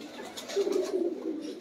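A pigeon kept in a pigeon-fancier's loft coos nearby, a soft, low throaty burble that rolls out in a short rising and falling phrase over faint background noise.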